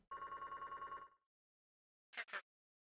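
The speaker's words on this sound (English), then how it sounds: "A rotary phone?" A rotary phone in the video game Beacon Pines rings with one long, clear metallic bell trill, then after a short silence two quick clicks follow, all heard alone without voices.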